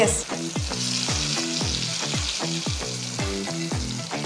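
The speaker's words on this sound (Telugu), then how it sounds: "ఇప్పుడు ప్రాపర్ గా అటు ఇటు ఒకసారి తిప్పుదామా?" Brinjal fries in oil with a constant sizzle while a utensil stirs it in regular strokes about twice a second, each scrape sounding close and distinct.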